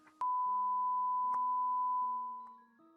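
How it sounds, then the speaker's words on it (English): A single loud, steady censor beep tone lasts about two seconds in a talk show, starting abruptly and then fading, with faint muffled speech barely underneath. "while Johnny puts a beep over this part of the show"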